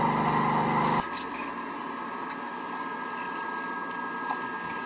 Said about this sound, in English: So I'll just sand with my final grit.